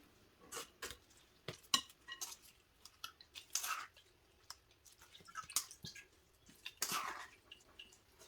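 Homemade lemonade of lemon and orange with ginger and turmeric strained through a strainer, quiet drips and clinks of metal and glass in irregular bursts, close by.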